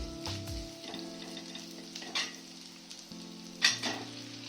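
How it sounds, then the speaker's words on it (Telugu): Potatoes tipped into hot oil already frying green chilies, a steady close sizzle with a few sharp stirring and pan scrapes on top, no talking. "మనం ఫ్రైలో ఇప్పుడు దుంపలు వేసేస్తానండి"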